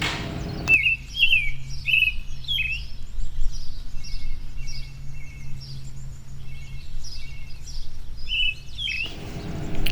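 Birds chirp and tweet repeatedly in short, bright calls, fairly close, over a quiet outdoor background with no talking, in a jungle-like park in Manila.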